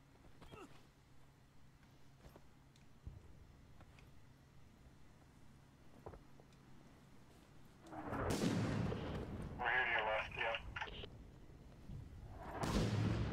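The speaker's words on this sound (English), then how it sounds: "Mortar fire." Mortar fire in the video game Six Days in Fallujah: a quiet stretch of faint distant thumps, then heavy rumbling blasts building to a loud, sustained roar near the end.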